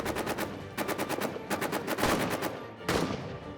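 Machine-gun fire from troops in the trench-warfare video game All Quiet in the Trenches, fighting French troops: several loud, close bursts of rapid shots with short pauses between them.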